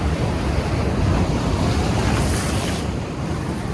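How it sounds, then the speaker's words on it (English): Sea waves crash and churn against sharp coastal rocks, a dense, continuous roar of surf with wind buffeting the microphone throughout, loud and close with no talking. "The sea is getting more violent."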